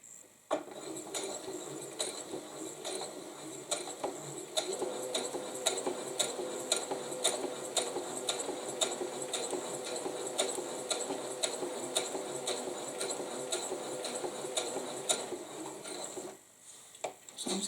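A sewing machine stitching fabric runs in a steady, rapid mechanical ticking rhythm for about sixteen seconds, fairly quiet and close, then stops abruptly near the end.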